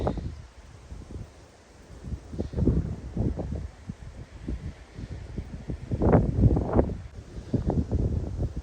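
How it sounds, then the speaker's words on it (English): Wind gusts across a San Jacinto mountain trail at dawn, rumbling against the microphone and rustling nearby brush in uneven surges, strongest near the end, with no voices. "It's been really windy."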